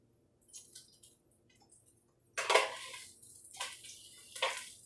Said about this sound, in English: I'm going to go ahead and flip this over.